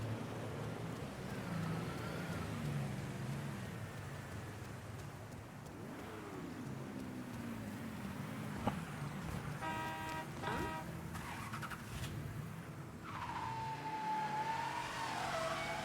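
Car engine and road noise from the video game Mafia III, a steady drone with shifting revs, a brief horn-like toot midway and a rising whine near the end, fairly quiet in the background without talk.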